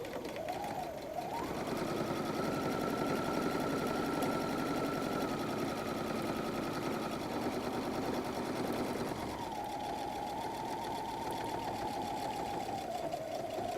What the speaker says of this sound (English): Now I'm going to go ahead and sew the pleat on the other side